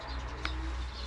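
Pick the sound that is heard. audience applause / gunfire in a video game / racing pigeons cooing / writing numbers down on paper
racing pigeons cooing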